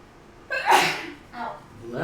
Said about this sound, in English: I'm German and I have German sneezes.